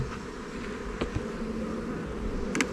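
A swarm of honey bees drones steadily at a hive during re-homing, a dense continuous buzz with individual bees passing close now and then, no voices.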